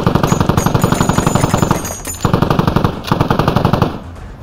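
A Tigr RWS machine gun fires through a wall in the game Squad, loud and close in long rapid bursts with brief pauses, each round sharp and evenly spaced.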